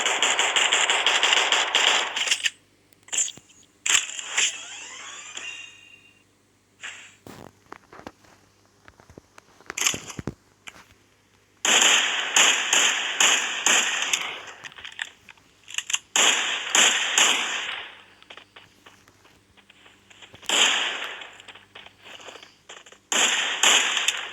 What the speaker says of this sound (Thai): เป็นเสียงปืนนะปั๊ม